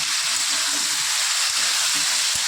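Turmeric powder sizzling and being stirred in a hot pan before spinach goes in, a steady bright frying hiss with soft scraping knocks of the spoon against the pan.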